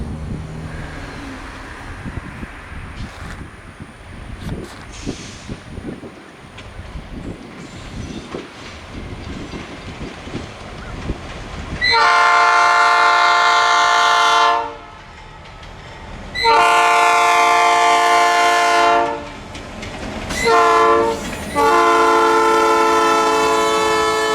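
A nuclear waste train hauled by a Florida Northern Railroad GP18 locomotive rumbles past with a low clatter, then its horn blares loudly in several long blasts close by.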